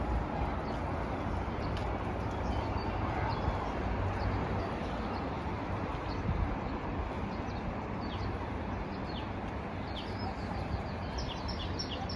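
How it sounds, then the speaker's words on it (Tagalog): Birds outdoors on a cold, foggy day near a mountain with a train around, giving faint, scattered high chirps over a constant loud rushing background noise. "meron ka pong ibon na maririnig mga lalabs."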